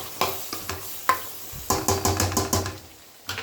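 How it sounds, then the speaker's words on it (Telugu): Washed chicken stirred into a frying salted gravy: a run of sharp spoon scrapes and knocks over a soft sizzle, a busier cluster of stirring strokes in the middle, then a final scrape. "మంచిగా కడిగిన చికెన్ వేసుకొని బాగా కలుపుకోవాలి"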